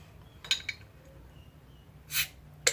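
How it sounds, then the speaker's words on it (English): A bottle of red IPA is cracked open, giving a few small clicks, then a short breathy hiss of escaping gas and a final sharp tick, all close and quiet. "So I'm going to crack this beer."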